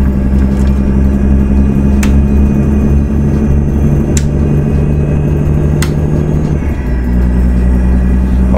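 A Volvo VNL 780 truck engine in American Truck Simulator idles along at low revs, giving a steady, heavy low drone that continues evenly throughout with no talking.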